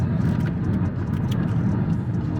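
A car pulls away after refueling at a filling station in Ukraine, giving a steady, close engine hum and road rumble that holds at an even level throughout.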